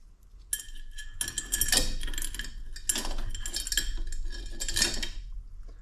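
A bicycle chain is lowered into a glass jar of aviation fuel, producing a close run of metallic clinks and rattles against the glass in irregular bursts over several seconds.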